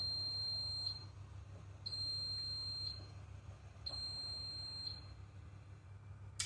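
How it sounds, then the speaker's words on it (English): A kitchen oven beeps to signal it has preheated, three evenly spaced pairs of high electronic tones over a low steady hum, with no one talking. "The oven beeps a lot to tell us that it's ready."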